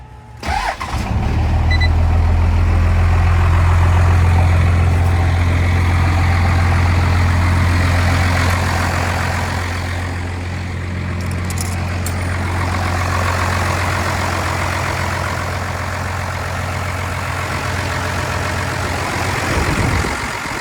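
A 6BT Cummins diesel engine cranks and fires, then idles loud and steady up close, continuing to run on with a deep, even rumble and no voices.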